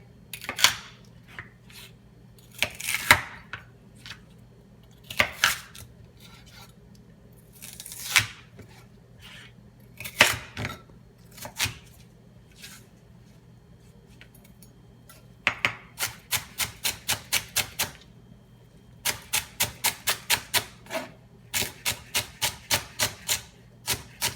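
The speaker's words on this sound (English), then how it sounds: "now we're just going to dice up the celery." A knife dices a celery stalk on a cutting board: scattered single chops at first, then quick even runs of crisp taps, close and clear with no talking.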